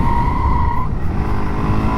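A Suzuki DRZ-4SM supermoto's rear tire squeals loud and close as it slides in a drift. A piercing tone over rumbling engine noise fades after about the first second.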